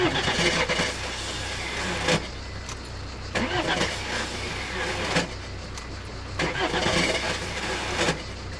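A car's starter motor, with suspected worn brushes, cranks a flooded engine in repeated loud bursts of churning, each lasting around a second, with short pauses between attempts and no catch.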